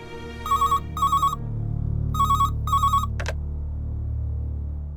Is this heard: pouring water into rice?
no